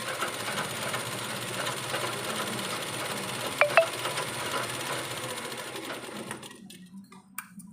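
A sewing machine stitching fabric runs in a fast, steady mechanical whir with a couple of sharp clicks midway, close and loud, before stopping abruptly near the end.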